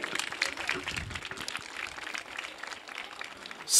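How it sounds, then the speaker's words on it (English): An audience claps at a Republic Day school event, a moderate, somewhat sparse ripple of applause with individual hand claps audible and voices mixed underneath, then a sudden loud burst at the very end. "Dear audience kindly applause to motivate them and bless them to be the future leaders of India"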